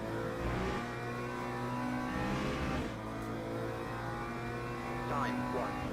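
A BMW race car in Le Mans Ultimate drones along at steady high revs with a strong harmonic engine note, rising and dipping slightly through gear changes, with a faint squeal of tyres near the end.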